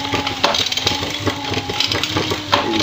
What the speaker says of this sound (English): it's much harder to pedal this treadmill motor than the alternator